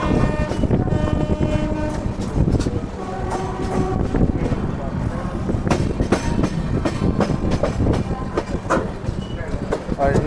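The New Delhi–Ranchi Garib Rath Express rolls into Prayagraj Junction with a loud, continuous rumble and wheel clatter under blaring horn tones, heard close up from on board.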